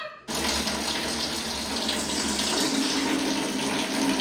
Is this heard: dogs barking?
no